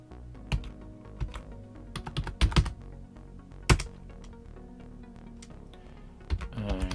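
Keystrokes clatter on a computer keyboard attached to a small RISC-V single-board computer, irregular bursts of clicks and a few harder taps, close and fairly quiet, with pauses between flurries.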